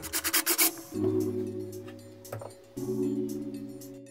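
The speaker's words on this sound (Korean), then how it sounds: "볼트를 풀고 빼내면 빨래판을 들어 올릴 수 있습니다" A quick burst of ratcheting clicks from a 10mm socket wrench unscrewing a washing machine pulsator bolt, then a steady droning hum that breaks briefly and resumes, close by with no talking.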